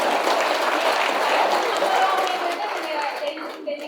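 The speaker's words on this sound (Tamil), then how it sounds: "எல்லாரும் கையை தூக்கி அந்த கரகோஷமே அதுக்கு சாட்சி" A crowd at a gathering gives loud, dense applause. The clapping is sustained and fills the space, then thins out toward the end.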